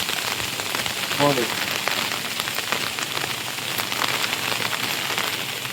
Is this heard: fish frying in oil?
no